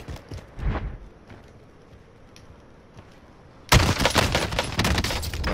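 Rapid shotgun blasts from a Gallo SA12 semi-automatic in Warzone, a couple of sparse shots early and then a loud, dense burst of repeated firing near the end.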